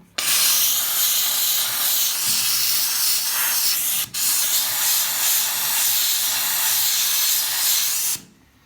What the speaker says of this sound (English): And I'm using this on the top most powerful steam as well.